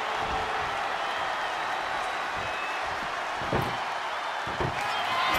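Arena crowd noise from a WWE 2K24 wrestling match, a steady broad roar of cheering that fills the whole stretch, with a couple of dull thuds breaking through.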